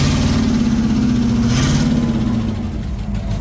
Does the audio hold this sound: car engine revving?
yes